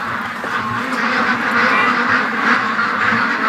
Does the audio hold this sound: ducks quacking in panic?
yes